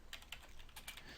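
Rapid tapping on a computer keyboard, a quick uneven run of light key clicks, faint and close, with no voices.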